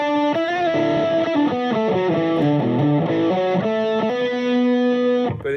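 A distorted electric guitar plays a quick pentatonic run of single notes without reverb, each one clipped and dry, ending on a held note that cuts off abruptly.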